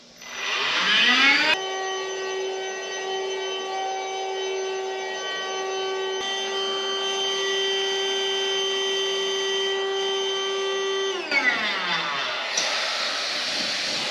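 A DeWalt 20V Max inflator runs continuously, pumping air into a duct with a steady, loud whine and buzz that starts abruptly, holds for about ten seconds, then cuts off.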